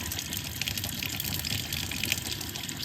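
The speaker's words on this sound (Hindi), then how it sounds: "इस बार तो इसमें पानी आ रहा है।" Tap water running steadily in a top-floor penthouse apartment kitchen, a continuous broadband hiss and gush at moderate level with no talk.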